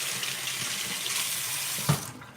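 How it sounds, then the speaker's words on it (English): Kitchen tap water runs steadily onto a potato held under it for washing, a close, even splashing hiss that ends with a short knock before the flow cuts off. "wash the potato off a little bit"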